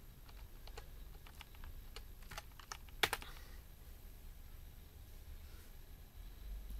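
A password goes in on the keyboard of an HP Elite 8100 desktop PC. Scattered soft key taps sound over a low hum, with a sharper cluster of clicks midway. The typing is quiet and close, and no one talks.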